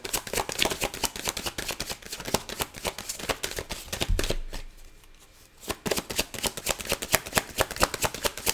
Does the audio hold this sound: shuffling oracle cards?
yes